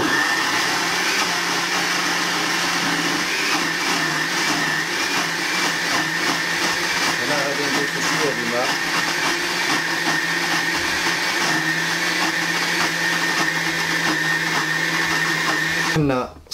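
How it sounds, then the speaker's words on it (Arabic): An electric blender grinds semolina batter for baghrir, a loud continuous whirring motor drone running steadily for the whole stretch before cutting off abruptly at the end. "غادي نسدو الماكينة ونطحنو"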